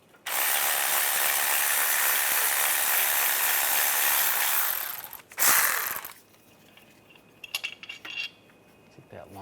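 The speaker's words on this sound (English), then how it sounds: "Using a 15mm socket, we're going to take this bolt out" A ratchet with a 15mm socket clicks loudly and steadily as it removes a bolt on a 2010-2016 Cadillac SRX during knock sensor replacement, followed by a few shorter metallic clinks and rattles.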